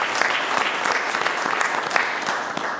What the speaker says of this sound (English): So let's give Ted a round of applause